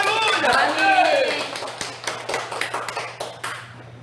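A church congregation breaks into clapping that starts dense over voices, then thins into a few scattered, distinct claps as the noise fades.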